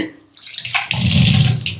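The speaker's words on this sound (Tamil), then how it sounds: "இப்போது கொஞ்சமாக தண்ணி ஊற்றிக்கலாம்" A small amount of water is poured into henna paste being mixed, starting after a brief quiet moment and then running as a steady, loud, close splashing stream.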